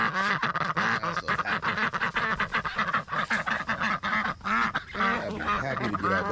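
A flock of ducks quacks loudly and continuously up close, the calls overlapping in a busy, honking chatter as they crowd around during a morning feeding.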